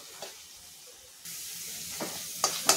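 Spice paste of onion-garlic masala and turmeric frying in a pan, a soft steady sizzle that grows louder partway through, with a few sharp crackles and spits near the end.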